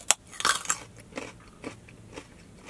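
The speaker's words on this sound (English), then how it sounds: "Carrots involve a lot of chewing." Raw carrots dipped in hummus are bitten with a sharp crunch, then chewed in a run of softer, spaced crunching, close and fairly quiet, with no talk.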